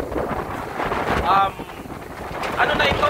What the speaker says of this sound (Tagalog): maririnig nyo dito yung lakas na ng hangin